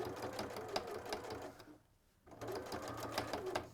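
A sewing machine stitches in a steady close whir, briefly pausing midway before running again.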